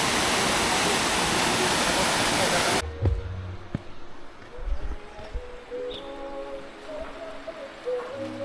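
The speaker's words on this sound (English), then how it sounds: "waterfall." Waterfall on the Ha Giang Loop in Vietnam, a loud dense rush of falling water for about three seconds that cuts off abruptly, followed by quieter ambient sounds and scattered voices.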